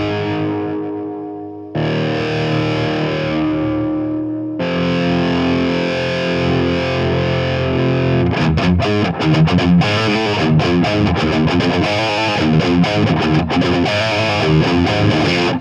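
An electric guitar plays through a Marshall JCM 800 2204 amplifier with a heavy distorted tone. Long sustained chords ring out loud and close, then give way to faster, choppier riffing, with no talking.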